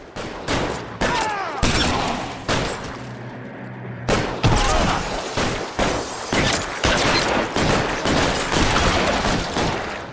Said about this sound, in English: Oh, phase de gunfight.